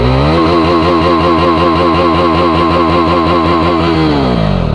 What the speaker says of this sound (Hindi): पूरा थ्रोटल मार के देखते हैं।